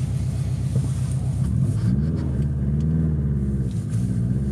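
A 500 hp Subaru Impreza WRX STi, fitted with extra welded-in mufflers, drives along with a steady, loud, low engine drone whose pitch dips and rises slightly throughout.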